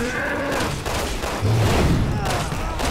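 Gunfire and booming blasts in the Resident Evil 6 video game, on professional difficulty, form a dense, loud, continuous barrage with a heavier low thump about halfway through. Voices talk underneath.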